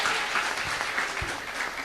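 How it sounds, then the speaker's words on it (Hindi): Audience clapping fills the room at a Hindi-language gathering, dense, continuous applause at close range with a few heavier claps standing out. "ताली बजाओ ताली बजाओ ताली बजाओ"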